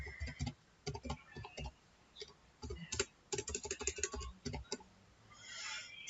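Fingers type on a computer keyboard, making close, crisp key clicks in quick bursts separated by short pauses, with no voices.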